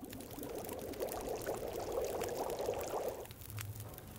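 Water being poured or filled in The Long Dark, a steady liquid pour running for about three seconds at moderate level, then stopping, with a faint low hum afterward.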